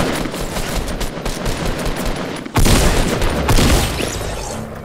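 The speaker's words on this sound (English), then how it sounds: "Everyone wants to shoot at me." Rapid bursts of gunfire and explosions from a shooter video game crackle loudly and densely, with a sharp, louder volley breaking in about halfway through.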